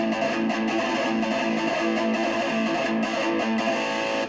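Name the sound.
doubled rhythm guitar track panned hard left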